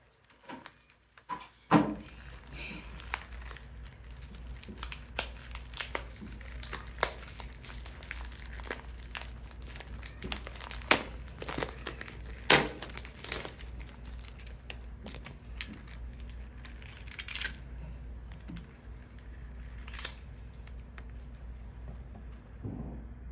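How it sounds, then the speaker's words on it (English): Plastic packaging being torn and unwrapped from a replacement four-lamp fluorescent light ballast: close, irregular crinkling and rustling with sharp snaps and taps over a steady low hum, lasting about twenty seconds without talking. "After I open up it up from the plastic, gotta open that up."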